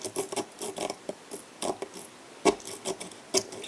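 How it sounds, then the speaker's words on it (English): A hand saw rasps through the top of an object in short, uneven strokes, close and fairly quiet, with sharper scraping bursts near the end. "I'm just going to keep sawing at it."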